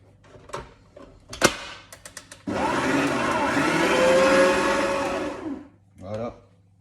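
An electric mixer whips chantilly cream with icing sugar, a loud steady whirring drone running about three seconds after a few short knocks and clatters, then cutting off.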